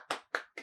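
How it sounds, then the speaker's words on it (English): Hands clap three times at an even, unhurried pace, each clap sharp and close with a short decay, isolated against silence. "I'm clapping"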